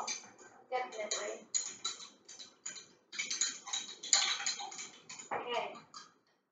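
A spoon stirring a homemade drink in a glass, quick repeated metallic clinks and scrapes in uneven bursts, close and clear, pausing briefly before another flurry and stopping just before the end.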